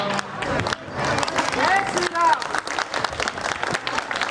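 An audience claps after a dance performance set to a devotional Rama song, a lively burst of applause and some cheering that runs under and alongside a voice speaking.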